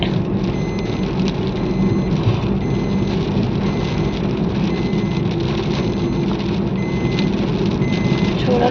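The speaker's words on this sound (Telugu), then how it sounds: "వర్షం అయితే స్టార్ట్ అయిపోయింది" Steady rain falls on a road while heading back from the beach, a dense continuous hiss with low rumbling throughout, with no gaps and no voices.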